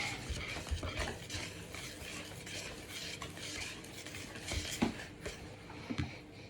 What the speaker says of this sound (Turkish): İyice karıştırıyoruz.